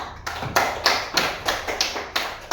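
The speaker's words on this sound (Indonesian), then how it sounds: "Beri aplaus" A small class group claps for a presenting group, about eight rhythmic bursts of applause at a steady pace, moderately near and without talk.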